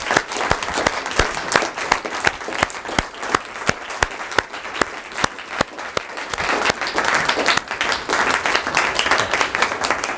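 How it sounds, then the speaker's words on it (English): A crowd at a spring communication showcase event gives a sustained round of applause, sharp individual claps rising in density and loudness toward the end, with no speech over it. "Let's give all these 12 individuals a really nice round of applause,"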